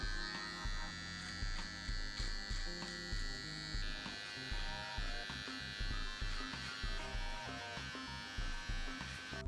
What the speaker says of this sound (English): I'm going to just get along my mustache, just a tad, with the trimmer